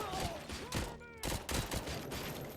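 Rapid bursts of gunfire in the RoboCop: Rogue City video game, fairly quiet repeated shots in quick clusters with a short lull between volleys and someone talking faintly over them.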